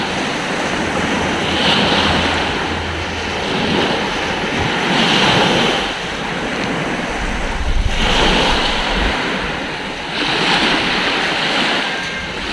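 Sea waves at Libagon, Southern Leyte, roar in a steady, loud wash of surf. Swells surge every few seconds, with wind buffeting the microphone throughout and no voices.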